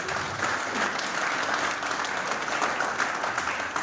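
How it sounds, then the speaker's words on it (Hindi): Audience applause at a motivational event, a steady, dense wash of many hands clapping that holds at an even level for the whole stretch with no talk over it. "एक बार इनके लिए जोरदार ताली।"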